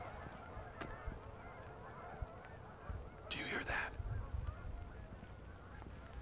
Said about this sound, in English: it could be thousands of geese